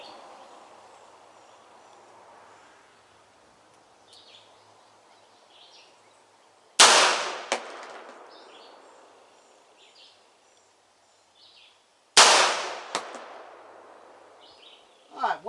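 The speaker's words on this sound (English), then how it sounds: "I'm going to shoot for that guy's left-hand center to see where my hold is on it." Two loud, sharp reports from a Beretta 92FS pistol at an outdoor range, each followed by a short metallic ring of steel, spaced several seconds apart against faint birdsong and a quiet background.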